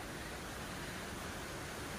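A steady, even rush of water pouring continuously over a barrier in a forest, like a spillway or small waterfall, faint and unbroken with no voices.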